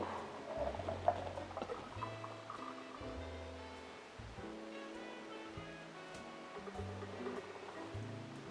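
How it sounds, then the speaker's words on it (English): A cocktail is fine strained into a coupe glass, a soft trickling pour of liquid through a strainer. It is faint and steady, running beneath quiet background music. "we are going to fine strain this into our coupe"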